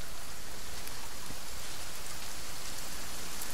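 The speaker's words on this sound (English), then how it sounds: "It's still raining." Heavy rain in the survival game The Forest pours as a bright, unbroken wash of hissing noise, loud and close, with no voices over it.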